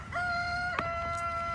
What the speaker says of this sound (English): The chickens are being really loud.